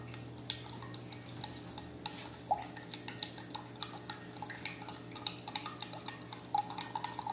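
A spoon stirring baking soda into a glass of liquid for a dancing raisins experiment, making faint, scattered clinks and ticks against a quiet background hum.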